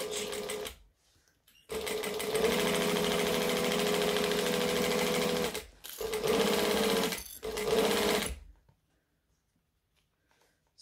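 A sewing machine backstitches a seam on a backpack, running in steady close bursts of rapid stitching with brief stops between them, then falling quiet.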